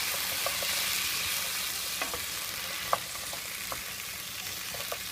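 Kale and garlic sizzle steadily in a hot frying pan, a constant soft hiss broken by faint scrapes and taps as the greens are stirred, with no talking.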